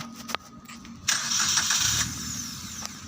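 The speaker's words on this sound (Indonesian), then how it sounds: "Ini suara mesin." A used car's engine cranks and catches at a vehicle auction, a sudden loud start that then settles into a steady, close idle with a whining high tone.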